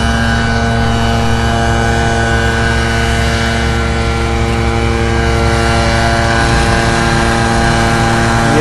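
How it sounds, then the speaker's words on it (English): An engine-assisted wood splitter runs at an outdoor garden equipment exhibition, giving a loud, steady mechanical drone with an even hum that does not let up. "A little assisted wood splitter there."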